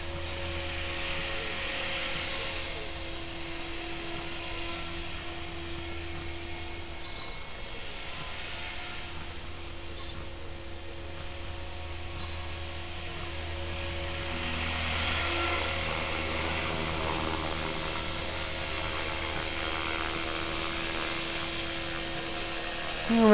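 An LH-450 model helicopter being run in outdoors, its rotor and motor giving a steady high-pitched whine and buzz that rises somewhat louder in the latter half, with no voices heard.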